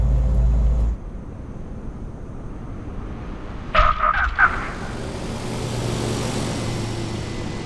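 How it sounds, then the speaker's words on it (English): In Microsoft Flight Simulator 2024, an aircraft brakes hard during a landing rollout on a short runway, giving a steady loud rumble of rolling and engine noise with a brief harsher burst partway through. "Heavy on the brakes."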